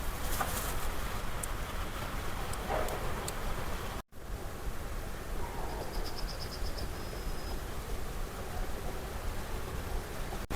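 Outdoor ambience in the countryside with soft birdsong: a dove cooing and brief high chirps over a steady hiss of background noise, no talking.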